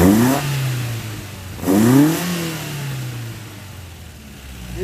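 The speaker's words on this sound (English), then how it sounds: "Let's rev this thing up a little bit." Engine revved twice in quick succession, each rev rising sharply then falling back to a steady idle, loud and close with no talking.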